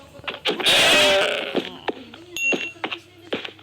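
Sheep in the Minecraft video game bleat in a loud, wavering call near the start, followed by a few shorter bleats, amid brief speech from a person.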